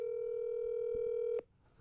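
A phone call's ringback tone, one long steady electronic ring lasting over a second before it cuts off, clear and alone with faint background noise.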